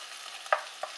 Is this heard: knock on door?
no